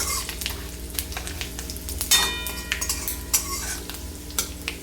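Bay leaves and panch phoron stirred in hot oil for a vegetarian bottle-gourd stem chorchori, a steady sizzle with repeated utensil scrapes and clinks against the pan, close and alone.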